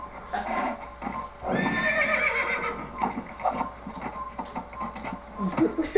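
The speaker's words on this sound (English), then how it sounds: "Oh, I got the horse." A horse in the video game Assassin's Creed neighs loudly in a long whinny, followed by scattered hoof clops and game sounds, with no talking.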